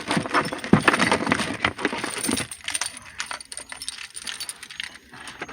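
Keys jangling and clinking close by in bursts of metallic rattling, loudest early on, then quieter scattered jingles and handling noises toward the end, with no talking.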